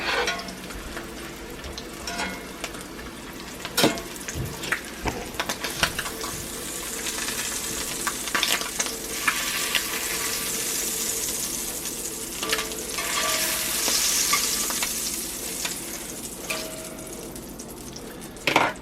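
Ham frying on a cast iron grill at a breakfast cookout, a steady sizzle running throughout, broken by scraping and tapping as the pieces are shifted around.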